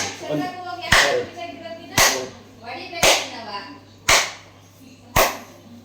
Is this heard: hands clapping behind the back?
yes